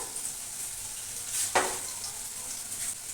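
Potatoes, green banana and shing fish frying in a pan, a steady soft sizzle with a brief louder crackle partway through, close and without talk.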